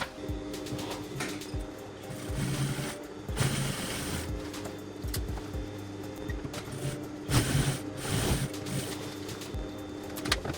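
A sewing machine topstitches a French seam on a long boxy parka, its mechanical whir coming in close bursts of stitching separated by brief pauses and fabric handling, with no talk.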